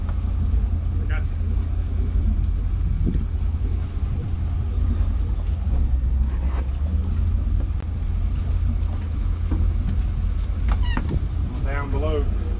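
Twin boat motors drone steadily and loudly at close range on a boat under way during a Great Loop cruise, a constant low rumble with wind noise, while people talk over it.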